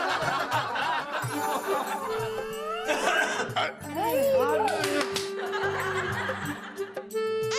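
An elderly man coughs in a domestic comedy scene, mixed in with loud chatter, laughter and several voices talking over one another.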